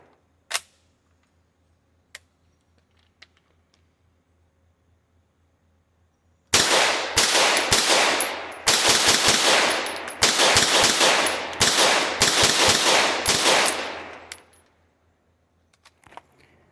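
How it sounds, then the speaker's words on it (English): A MAC-5 9mm fitted with a stabilizing brace fires a fast string of about fifteen rounds in quick succession, loud and close, after a few seconds of near silence broken by small clicks. "Very smooth shooting gun."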